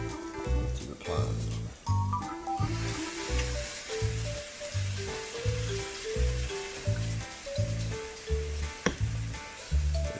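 A Cheetos-crumb-coated grilled cheese sandwich sizzles and fries in a pan, a steady loud crackle with a regular rhythmic thumping beat running underneath throughout.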